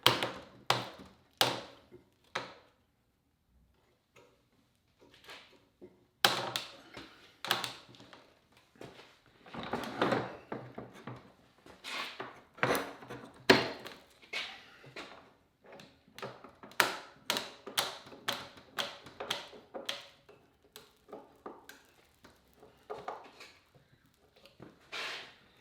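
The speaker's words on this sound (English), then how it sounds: "Now the clamps over here, I can go ahead and tighten these up and draw them in while they're being held straight" Panel clamps being tightened on a wood glue-up, close and fairly quiet: an irregular series of sharp taps, clicks and knocks from metal and wood handling, with short pauses between clusters and no talk.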